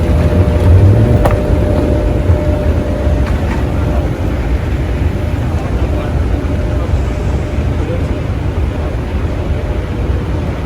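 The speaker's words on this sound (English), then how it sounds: "First time going in a train inside the airport" Steady rumble of an airport people-mover train ride, a continuous loud low hum with rattling throughout, briefly louder at the start, with no clear voices.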